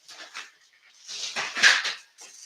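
Dog whimpering and letting out short cries and yelps on a farm, a few close, high-pitched bursts separated by brief pauses, heard on its own.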